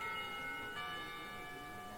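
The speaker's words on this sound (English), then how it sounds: "I rub my eyes as the lunch bell rings out" A school lunch bell in the Katawa Shoujo visual novel chimes with clear, sustained ringing tones, sounding a second stroke partway through over a quiet background.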